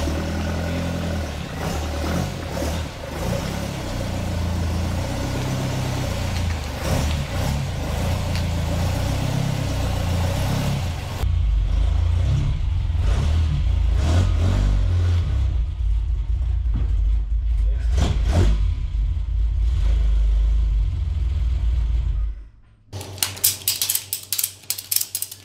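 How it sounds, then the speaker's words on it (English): Four-cylinder engine of a Ford Escort MK1 running while its carburettors are balanced, a loud steady mechanical drone that shifts in tone partway through, then cuts to a brief burst of clattering near the end. "he's going through balancing the carbs and he's setting up the idle mixture"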